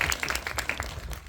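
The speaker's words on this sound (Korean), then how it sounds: "박수 한번 부탁드리겠습니다." Applause from a small audience at a Korean film screening talk, a short burst of dense clapping at steady strength throughout.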